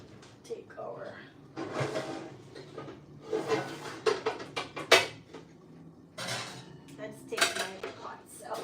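Metal pots and pans clanging and scraping as they are taken out in a home kitchen, a run of close clattering knocks and rattles with drawer-like thuds, a voice talking over parts of it.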